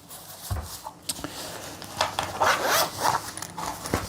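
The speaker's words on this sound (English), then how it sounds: "We'll undo the zip," Zipper on a carry case for an UltraMax LI18-12 lithium iron phosphate battery being pulled open in several close, scratchy bursts, with a few handling knocks in between.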